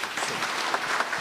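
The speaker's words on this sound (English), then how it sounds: "a round of applause for the Minister. A big round of applause." A crowd applauds at the commissioning ceremony for the Zimpapers digital newsroom, a brief burst of dense clapping heard from a moderate distance.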